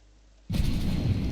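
A plane crash explosion in the survival video game Stranded Deep: near silence breaks into a sudden loud boom, followed by a dense, rumbling roar.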